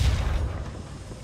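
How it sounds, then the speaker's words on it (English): Artillery lands in War Thunder, a heavy low boom that starts loud and rolls off into a fading rumble within about a second, with no voices over it. "I dropped artillery on his position"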